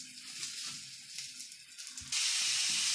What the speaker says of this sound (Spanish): Cuando el aceite estaba caliente, vamos a echar las hamburguesas.